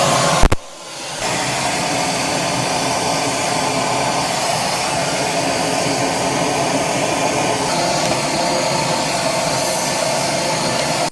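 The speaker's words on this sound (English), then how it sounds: "we've placed our hose on the blower side outlet of the vacuum so we can blow in" Vacuum cleaner with its hose on the blower outlet, pushing air into refrigerator condenser coils: a sharp click, then a loud, steady rushing whine held for about ten seconds, close and alone.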